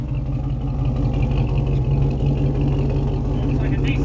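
A modified SEMA show truck engine revs with a deep, diesel-like rumble and steady low clatter, loud and close, with voices talking over it throughout.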